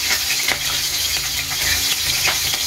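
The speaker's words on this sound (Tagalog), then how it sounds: "So, magprito tayo ng init na ng mantika ko." Food sizzles loudly in hot, smoking cooking oil, a dense steady crackle with occasional sharper pops and utensil clicks as it fries.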